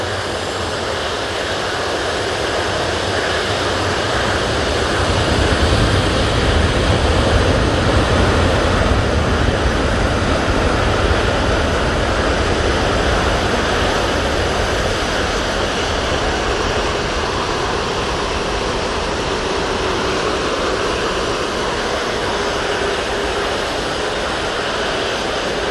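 Ryanair airliner taking off at Manchester Airport, a steady broadband jet roar that swells slightly and holds loud throughout, with no voices.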